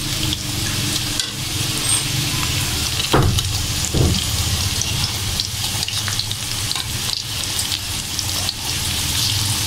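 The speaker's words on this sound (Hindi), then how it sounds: "पकौड़े हमने डाल दिए हैं, इनको भी अच्छी तरह उल्टा लेते हैं।" Crispy onion pakoras fry in hot oil with a loud, constant sizzle. A couple of soft utensil knocks come around the middle as they are turned, and no one speaks.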